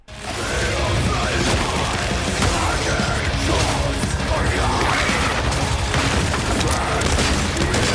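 Dense, loud gunfire and booming blasts fill an action video game with a death metal style, a continuous barrage of shots and explosions without pause.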